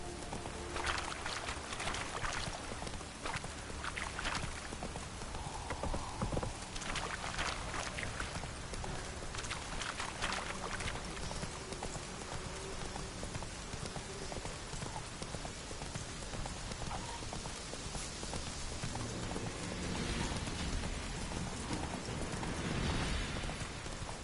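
Horse hooves clip-clopping in The Witcher 3, a steady dense trotting patter mixed with rain-like hiss, constant and fairly even throughout with no talk.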